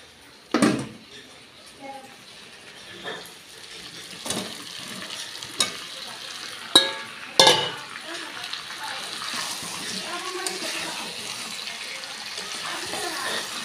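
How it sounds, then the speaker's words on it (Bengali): Mutton and potatoes fry in a pan with a low sizzle under irregular loud clatters and scrapes of a spoon against the pan, close by, while a person talks intermittently. "চলো এর মধ্যে আলু দিয়ে দিই, দিয়ে আর একটু কষিয়ে নিয়ে তারপরে দেবো প্রেসারে"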